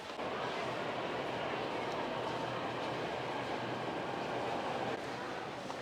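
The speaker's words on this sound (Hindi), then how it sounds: "मैं पहुंच चुका हूं राजीव चौक, दिल्ली का जो सबसे बड़ा मेट्रो स्टेशन" Busy Rajiv Chowk metro station in Delhi with a steady broadband roar of a train and crowd noise, continuous and fairly loud throughout, with faint voices mixed in.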